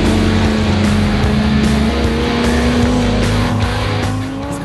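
A Ronaele 700R Mustang street car accelerates hard, its loud, close engine holding a steady rising drone with faint tire noise throughout.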